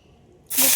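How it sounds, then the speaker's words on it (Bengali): Dried red chillies hit hot oil in a pan, a sudden loud hiss and sizzle that bursts in after a quiet moment and holds strong to the end. "দেখো দুটো শুকনো লঙ্কা আমি ভেজে নিচ্ছি"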